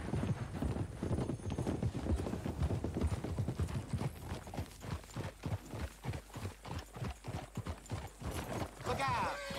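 Horse hooves clip-clop at a steady walking rhythm on a dirt road in the Red Dead Redemption 2 video game, fairly close and prominent, with a brief whinny near the end and faint game ambience beneath.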